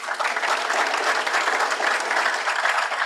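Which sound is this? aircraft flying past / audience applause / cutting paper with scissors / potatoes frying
audience applause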